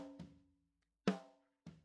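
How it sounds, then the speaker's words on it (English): Snare drum sample from a parallel-compressed drum mix, three isolated punchy hits with short decaying tails, the first softer, heard alone. "the snare"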